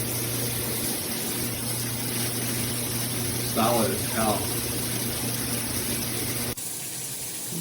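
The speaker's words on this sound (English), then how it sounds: "That's how your water should come out." Water pours steadily from a chrome HammerHead all-metal dual shower head with an 8-inch rain head, a constant close hiss and spray that cuts off abruptly near the end, with someone briefly talking over it.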